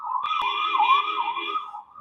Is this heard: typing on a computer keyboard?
no